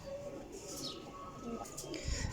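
A pigeon coos at a dovecote, soft low calls repeating under someone talking nearby, with faint chirps around them.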